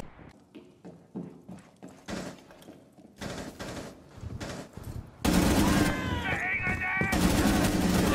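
Gunfire rattles through a Rainbow Six Siege match, with quick bursts of shots that build into dense, sustained fire. Excited voices talk over the later shooting.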